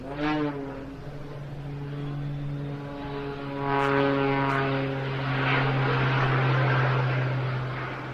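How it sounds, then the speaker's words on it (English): A steady aircraft engine drones with a sustained harmonic tone at an aerobatic air display in Jersey, 2024, swelling slightly louder midway and holding close and continuous without any talk. "The smoke will come on, the jets will spool up."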